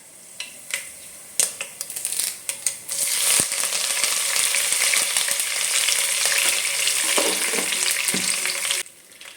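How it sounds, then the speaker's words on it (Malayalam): Mustard seeds and curry leaves drop into hot oil for a lemon pickle: a few sharp spits and pops, then a loud, steady crackling sizzle that holds for several seconds before cutting off abruptly. "അതേ ടീസ്പൂൺ അളവിൽ നമുക്ക് കടുക് ഇട്ട് കൊടുക്കാം. അതിനുശേഷം കറിവേപ്പില ഇട്ട് കൊടുക്കാം."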